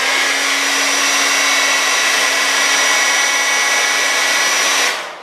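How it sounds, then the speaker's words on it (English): A hair dryer blows with a steady, loud whooshing roar and a constant motor hum, running close by for several seconds before switching off. "So if you got a hair dryer, you could kind of"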